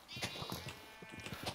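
Sheep bleating inside a video game, several short bleats in quick succession over a steady game background, fairly close and clear.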